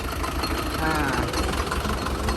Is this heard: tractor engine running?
yes